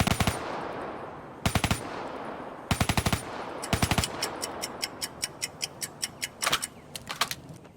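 Rapid bursts of automatic Kuda gunfire from Call of Duty Black Ops 3, loud and close, firing in several short sharp volleys followed by a string of evenly spaced single shots.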